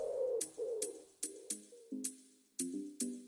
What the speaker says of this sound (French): Voilà un pigeon voyageur qui nous livre un billet.